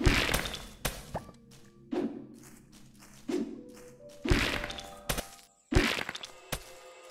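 Repeated hollow thunks and thuds of tools striking while a mine is broken apart in the video game Garden Paws, about half a dozen separate hits with ringing tails and gaps between them.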